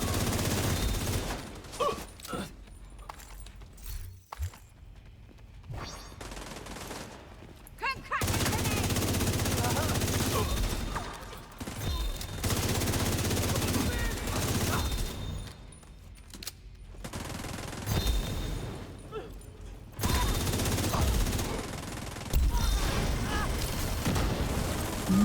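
Video game gunfire in dense, sustained bursts of automatic fire and booms, loud and continuous with short lulls between volleys.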